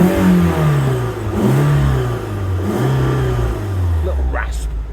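A warmed-up Fiat Barchetta convertible roadster engine is revved close by, rising and falling in several loud, rasping pulls over a steady idle.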